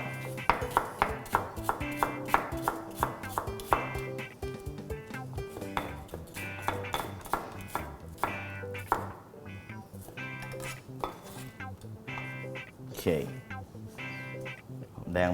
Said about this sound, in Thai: หอมแดงเนี่ยนะครับ ไม่ต้องโซเต้ไม่ต้องทำอะไรทั้งสิ้น หั่นมันสดๆเลยครับ